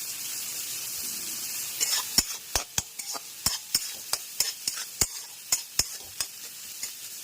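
Vegetables sizzle gently in a pan while a utensil scrapes and taps against it in a quick, irregular series of sharp strikes, close and clear over the low frying hiss.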